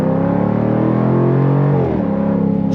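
Engine of a 2023 Jaguar F-Type V8 through its quad-tip exhaust and ZF 8-speed automatic, a loud, steady, close-up drone that drops in pitch near the end as revs fall.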